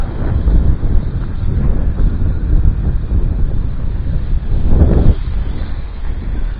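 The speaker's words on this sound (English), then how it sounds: "Wind's really picking up." Strong outdoor wind buffets the microphone during a small drone flight, a loud, continuous low roar with gusts swelling and fading, especially near the end, and no voices.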